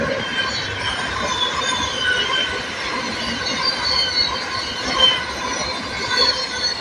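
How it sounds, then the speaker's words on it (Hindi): A Ranchi–New Delhi Rajdhani express passing close on the opposite track, a loud continuous rush of rolling wheels and rattling coaches with faint squeal, steady throughout. "सामने से रांची न्यू दिल्ली राजधानी।"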